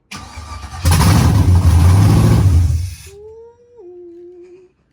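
LS swap engine with straight headers on its first fire up catches and revs loudly in a short, rough burst, then drops away quickly as a whistle-like tone follows, close by.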